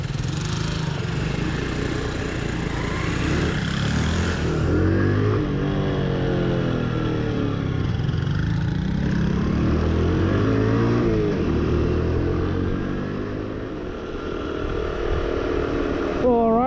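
A Honda Super Cub NBC110 rides through city streets in New Zealand, its small single-cylinder engine putting loudly and close, rising and falling in pitch through gear changes and throttle, with wind noise throughout.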